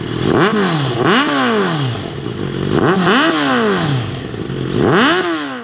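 A Suzuki GSX650F motorcycle with an aftermarket exhaust revs hard several times in quick succession, each blip rising sharply then falling away, loud and close with a raspy, sporty tone and no voices.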